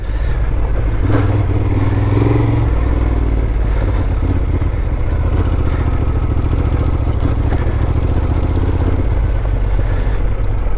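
A Honda Transalp motorcycle rides Idaho dirt trails, its engine droning loud and close without a break, with wind rush and the clatter of rough ground throughout.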